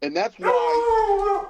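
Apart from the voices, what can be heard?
dog barking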